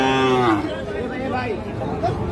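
A Sahiwal bull calf lows at a cattle market in Ambari, one drawn-out moo near the start, with fainter calls and market chatter behind it.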